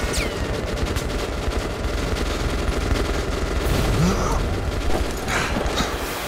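Sustained automatic gunfire in Metro Last Light Redux rattles on continuously, dense and loud, mixed with mechanical clanks and scattered game sounds, with brief speech in the background.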